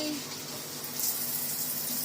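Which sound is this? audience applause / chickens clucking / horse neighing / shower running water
shower running water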